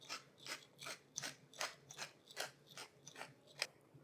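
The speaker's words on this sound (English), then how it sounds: "Also some freshly cracked black pepper, as much as you like." A pepper mill cracks whole black pepper in a run of about ten evenly spaced, faint gritty ratcheting twists, close up, with no talking.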